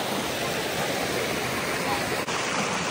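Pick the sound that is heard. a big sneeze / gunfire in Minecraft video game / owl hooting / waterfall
waterfall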